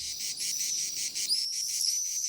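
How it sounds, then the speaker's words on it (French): Cicadas on a May evening shrill in a dense, steady high-pitched drone, pulsing in rapid regular beats with a few brighter rising sweeps, continuous and fairly close with no voices. "tout animé de crissements de cigales et de vols d'hirondelles"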